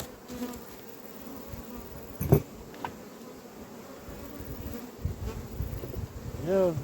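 Honey bees buzz around apiary hives as frames are handled, a faint continuous droning hum with individual bees passing close by, plus occasional soft knocks, with no speech.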